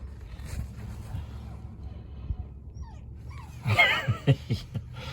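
Out in the cold, a dog lets out a short burst of whimpers and high yips near the end, close by, over a quiet outdoor background with faint voices.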